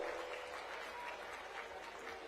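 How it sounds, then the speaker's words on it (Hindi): Sustained crowd applause welcoming a speaker at an Aam Aadmi Party rally in Jind, a constant, faint, distant-sounding roar of many hands clapping together with no break. "जोरदार तालियों के साथ, दिल खोल के।"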